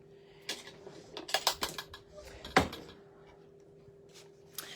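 Scissors snipping paper while cutting out a piece for a homemade Christmas shadow box, a quiet run of short crisp snips and clicks, close by, with brief pauses between cuts.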